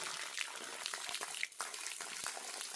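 Drinking water piped down from a hilltop gushes out and splashes onto the ground in a continuous, fairly loud rush with small irregular splatters, heard close up with no talking.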